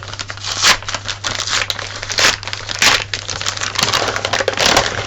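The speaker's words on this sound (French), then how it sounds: "Là, je vais ouvrir l'enveloppe." A paper envelope is torn open up close, giving loud bursts of crinkling, crumpling and ripping paper in irregular handfuls over a low background hum, with no one speaking.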